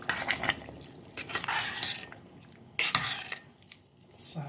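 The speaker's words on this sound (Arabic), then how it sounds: "نحرك" Lentils being stirred in a cooking pot with chickpeas: a spoon scrapes and clinks against the pot in several uneven bursts, close and moderately loud, with short pauses between strokes.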